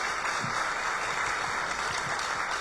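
Audience at a talk on human dignity giving a round of applause, a continuous hiss of many hands clapping at an even, moderate level with a few lower thumps mixed in.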